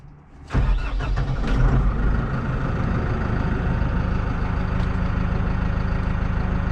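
A New Holland TD5.110 tractor's diesel engine starts with a sudden roar and settles into a steady, loud idle, heard up close with no talking.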